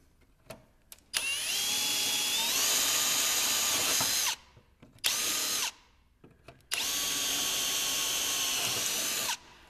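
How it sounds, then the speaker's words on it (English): A power drill whines in three bursts while drilling holes for a running board installation, a long run, a short one, then another long run, with brief quiet gaps between them, close up. "Now drill from the side."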